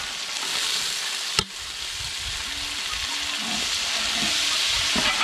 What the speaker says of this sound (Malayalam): ഇനിയിപ്പോൾ നമുക്ക് ഈ കൊച്ചുള്ളിയും നമ്മുടെ സവാളയും ഈ ഇഞ്ചിയും പേസ്റ്റും എല്ലാം കൂടെ നമുക്ക് നല്ലപോലെ ഒന്ന് വാട്ടിയെടുക്കാം